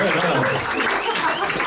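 A comedy club audience claps for the front row in a dense, steady burst of applause, loud and close, with no voices over it.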